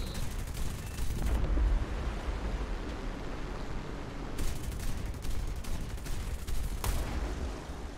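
Machine gun fire in the War Thunder video game, sustained and dense bursts of gunfire rattling continuously at fairly close range, with brief shifts in intensity and no talk over it.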